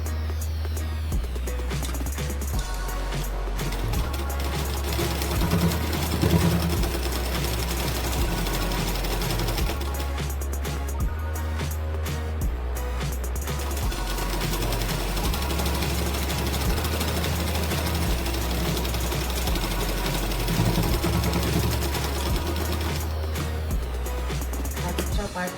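Sewing machine stitching around blouse sleeves, a steady mechanical whirr with rhythmic low thumping that runs in long bursts with brief pauses, close and fairly loud, with a voice speaking over it.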